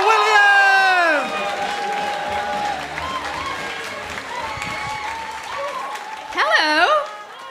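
A comedy club audience at the Frog and Bucket applauds as a comedian comes on stage. Steady clapping runs under voices and shouts, then fades as a speaker takes over.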